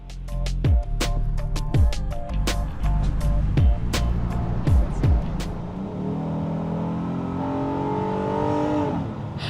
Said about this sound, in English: We're putting it in sport mode, putting it in drive, and I'll see you later.